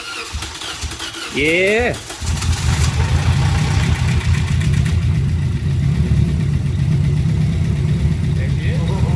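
A rebuilt Toyota Corolla engine, redone with new rods and oil sump, cranks briefly, catches and settles into a steady, loud, close idle with a low rumble, while a person speaks briefly over it.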